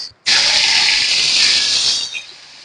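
Nigella seeds and crushed onion hit hot oil for a loud, sudden, sustained sizzling hiss that fades toward the end, with no talking.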